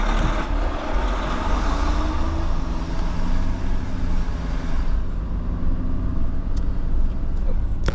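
A truck pulls away along a road near Grande Prairie at the start of the Alaska Highway, its engine a steady, fairly close rumble that fills the whole stretch without letting up.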